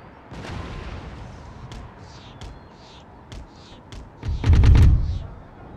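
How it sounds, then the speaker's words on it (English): Cannon fire in an Empire: Total War battle: a few soft, distant booms are scattered through the din, ending in a loud, close blast near the end, over a steady roar of battlefield noise and chirps. "And here comes the enemy cannon shot."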